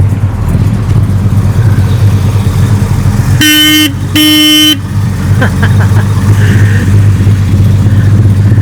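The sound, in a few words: classic car horn honking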